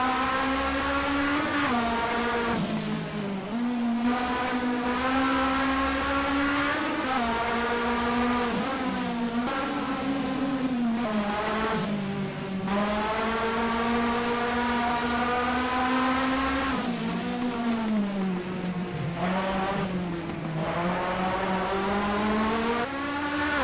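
Ford Capri Turbo race car engine in a racing video game at the Kyalami circuit, a loud continuous roar rising and falling through gear changes, with no talk over it.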